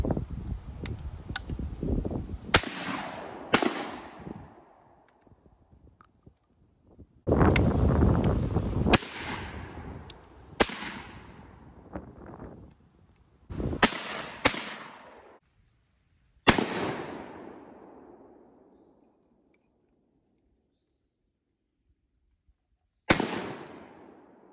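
Coach gun shotgun fired at an outdoor range: several loud booming blasts, some in quick pairs, each trailing off in a rolling echo, with pauses and quiet between volleys.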